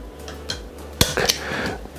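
A sharp clatter of a plate lid knocked against a glass jar of fermenting sauerkraut, followed by a few lighter clinks and scrapes, close by.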